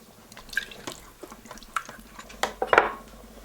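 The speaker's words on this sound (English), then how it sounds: "So we need to add 1 cup of filtered water." Water pours and drips into the metal inner pot of an Instant Pot pressure cooker, with light clinks and splashes in a short, uneven sequence, close up and alone.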